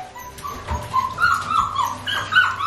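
A rescue puppy whimpers during its first bath, giving loud, close, high-pitched whines and small yips that rise and fall continuously with no talking.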